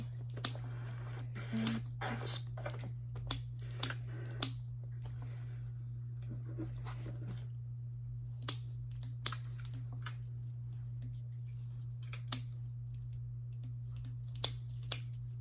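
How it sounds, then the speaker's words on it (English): Scattered sharp taps and clicks, irregular and fairly quiet, over a constant low electrical hum; no one speaks. "You might hear some tapping."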